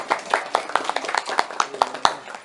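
A small group clapping in an uneven, loose rhythm of distinct hand claps, fairly close and moderately loud, with a faint murmur underneath.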